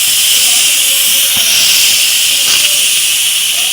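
Steam hisses steadily from a pressure cooker's whistle, a loud continuous close-up rush with faint clicks layered in.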